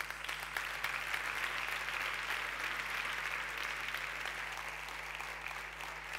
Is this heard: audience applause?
yes